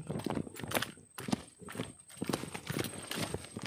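Horse hooves clop along a mountain trek path in a quick, uneven walking rhythm, close and fairly faint, with low voices and rustling outdoor noise around them.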